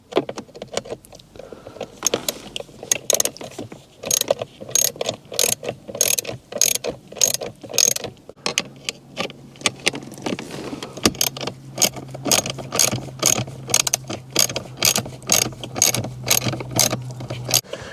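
A ratchet turns a T20 bolt on a BMW E60 gear shifter, a long run of rapid, evenly spaced clicks close by with a brief pause partway, then a faint steady hum beneath the later strokes.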